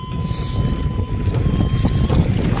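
Strong wind buffets the microphone on the Rhône river during a kayak trip, a loud continuous roar with gusting swells and faint water noise beneath, no speech.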